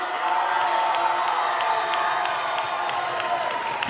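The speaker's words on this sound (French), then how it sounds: "leur faire un tonnerre d'applaudissements, s'il vous plaît, pour Chrysalis" An audience at a cosplay show in an anime convention hall applauds and cheers a performing group, a dense, loud wash of crowd noise with whoops and shouts sustained throughout.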